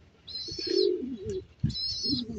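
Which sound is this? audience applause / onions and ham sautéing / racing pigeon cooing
racing pigeon cooing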